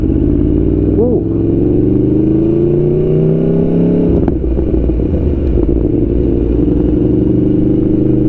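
An Aprilia Tuono V4 Factory 1100 motorcycle roars loudly through its exhaust while riding, a dense continuous engine drone with a brief rev rise and shift near the start, sustained and close throughout.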